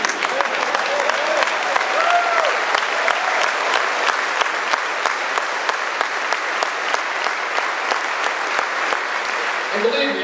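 Sustained applause from a large crowd at the 2011 NRA convention, steady dense clapping throughout with a few cheers mixed in.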